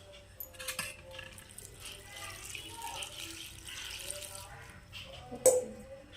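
Fenugreek seeds and tea leaves are washed by hand in a vessel of water, giving soft splashing and trickling sounds with one sharper clink near the end, all at low volume.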